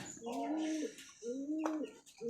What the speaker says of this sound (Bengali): আচ্ছা এবার একটা উধে দমের কবুতর দেখাচ্ছি আপনাদেরকে